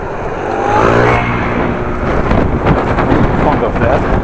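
Wind on a blustery day buffets the microphone outdoors, a loud low rumbling roar that swells and eases throughout the short stretch.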